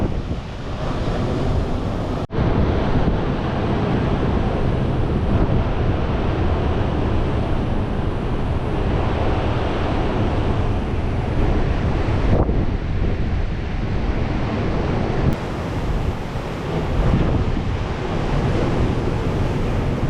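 Huge surf roughly twenty feet high pounds continuously during a typhoon, with gale-force wind roaring across the microphone in a dense, loud wash and brief buffeting gust dropouts.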